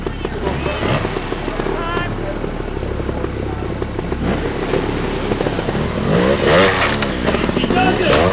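Kylie's off-road motorcycle revs and strains while climbing over big logs and rocks, the engine rising and falling in bursts under steady commentary.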